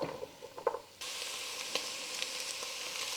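Vegetables sautéing in a pot for butter bean soup, a steady broadband sizzle that jumps in at about one second and holds loud and even, with a few soft clinks of stirring at the start and scattered pops.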